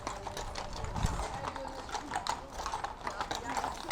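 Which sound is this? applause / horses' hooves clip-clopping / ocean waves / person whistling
horses' hooves clip-clopping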